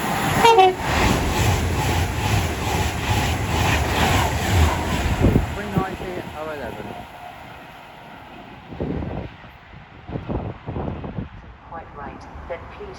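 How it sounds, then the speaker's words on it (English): An Avanti West Coast train passes through Milton Keynes Central station with a horn blast and a loud rushing roar that fades into wheel clatter, while station announcements play over it. "Soon to pass through now will be Avanti West Coast service from Glasgow Central to London Euston."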